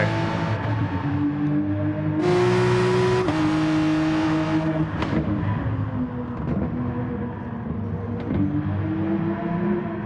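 A race car engine in the video game Gran Turismo Sport, during a daily online race, drones loud and continuous, its revs climbing and dropping through gear changes, with no talk over it.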